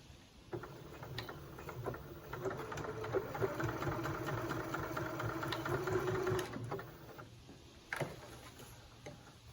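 A sewing machine stitching a fabric advent calendar, a fast mechanical whir of needle strokes that builds for several seconds, stops, then gives a brief final burst, with no talk.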